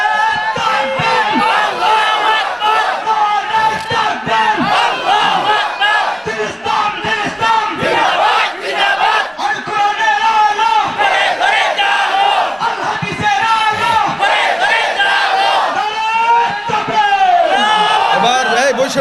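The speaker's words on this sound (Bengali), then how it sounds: "আল্লাহু আকবার ধ্বনি দিয়া একসঙ্গে সবাই দাঁড়াইবেন" A large crowd at a religious gathering shouts the takbir in unison, loud, repeated massed chants rising and falling in waves, close and forceful, with a leader's voice calling out between them.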